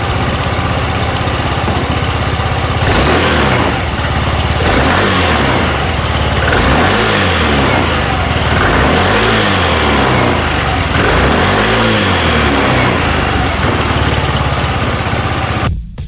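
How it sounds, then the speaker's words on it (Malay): A SYM Tuscany 150 motorcycle engine revs up repeatedly in steady bursts about every two seconds, loud and close, with the idle droning between each throttle blip and no talk over it. "So jom kita rem sikit untuk motor ni."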